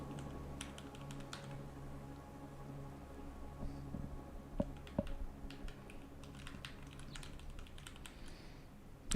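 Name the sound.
typing code on a computer keyboard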